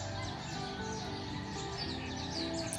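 Jungle birds in Hawaii chirp and sing continuously over a dense outdoor background, several overlapping calls at moderate distance, no voices.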